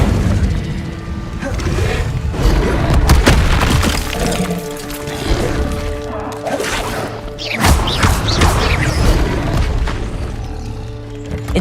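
Incendio fire spells cast repeatedly in Hogwarts Legacy, a sustained run of loud booming, crackling fire bursts and crashing impacts that swell and surge over several seconds, close and dense, with no voice.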